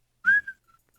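One short rising whistle from a person, close and fairly soft, followed by a couple of faint trailing chirps in an otherwise quiet moment.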